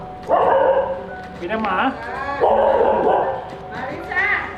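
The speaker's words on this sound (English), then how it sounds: "Only angry dogs." Dogs on a nightlife street bark and yip angrily in several loud, close bursts, with whimpering between them and people talking over the commotion.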